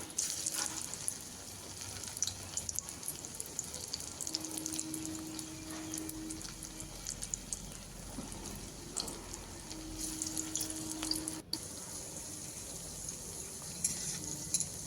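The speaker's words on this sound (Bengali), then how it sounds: "এবার এক এক করে পাকোড়াগুলো আমি ভেজে নেব" Taro pakoras frying one by one in hot oil, a steady soft sizzle running throughout with brief tonal hums and a couple of sharp clinks, no talking.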